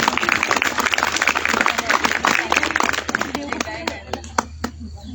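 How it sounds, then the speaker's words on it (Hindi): Audience at a large yoga event applauding yoga performers, a dense burst of clapping that thins into scattered claps toward the end. "इनके लिए एक बार जोरदार तालियां हो जाए।"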